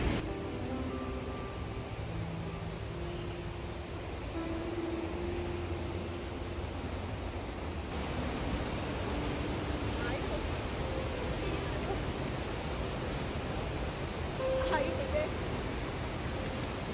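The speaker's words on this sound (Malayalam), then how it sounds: "ഇത് എമിലി ഗ്രാസ് ലാൻഡ് അല്ല, ദിസ് ഈസ് എ വാട്ടർഫോൾ" A waterfall on a trekking trail near Anini gives a steady, even rush of falling water, moderately distant, with faint voices now and then.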